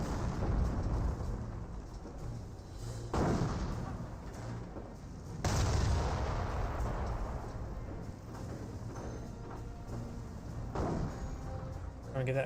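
Mortar and battlefield fire in the WWII strategy game Company of Heroes, repeated deep booming thuds and rumbling blasts every few seconds, mixed under ongoing commentary talk.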